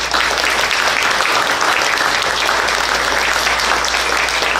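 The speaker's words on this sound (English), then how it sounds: "But I want to give Jazz a round of applause." A forum audience applauds steadily, a dense wash of clapping that holds loud and even throughout with no voices standing out.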